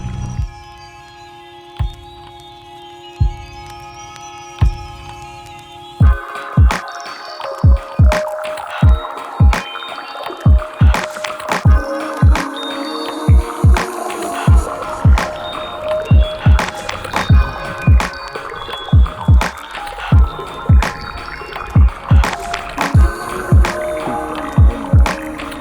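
Steady paddle strokes from a canoe on a clear spring-fed lake, a regular rhythm of close wooden dips and splashes with water dripping between them, following a quieter opening passage.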